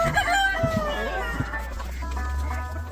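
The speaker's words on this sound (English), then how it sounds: "We got 60 breeds from all over the world. The rarest chickens in the world." Many chickens of rare breeds from around the world, with clucking and crowing calls overlapping throughout a busy coop, close and fairly loud against a steady low hum.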